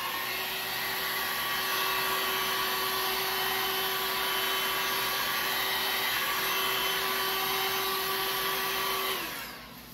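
A hot air tool blowing heat over the edge of a frame, a loud steady whooshing hum that holds for about nine seconds before winding down.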